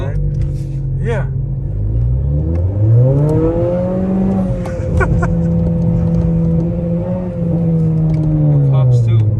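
A Honda Accord Sport with a loud aftermarket exhaust and resonator revs and accelerates up close, its deep engine note rising and falling in long sweeps while people talk over it.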